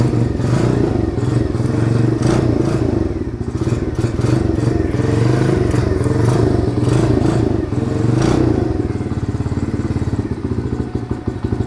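Cheap 125cc pit bike engine running after starting, a loud, close, rapid single-cylinder putter with rattling and clattering, holding a steady idle with slight surges throughout.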